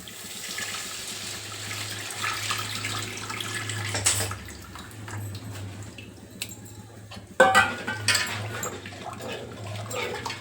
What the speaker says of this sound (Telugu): ఇప్పుడు తీసుకున్న చింతపండు నీళ్ళు